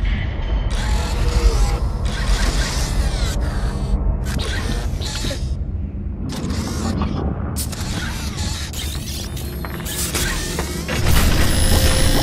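Jack, a robot in Gears of War 2, repairs a broken grind lift: dense mechanical clanking, ratcheting and creaking in irregular bursts with deep booms underneath, loud and continuous, with no talk.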